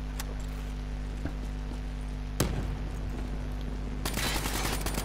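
Scattered gunshots in Call of Duty: Black Ops III: a few isolated, fairly faint cracks spaced a second or so apart over a steady low hum, with one sharper report, then a hissing wash of noise.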